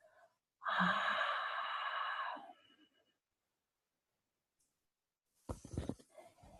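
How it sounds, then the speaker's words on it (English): A long, breathy exhale through the mouth during a pranayama breathing practice, close and fairly strong for about two seconds, then silence before another breath begins. "One more time, inhale, exhale through the mouth."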